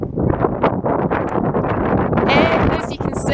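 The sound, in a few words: wind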